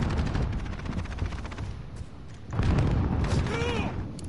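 Airstrike explosions in Call of Duty: Modern Warfare: a dense barrage of booms and rapid gunfire, loud and continuous, swelling into a heavier blast halfway through, with voices talking under the noise.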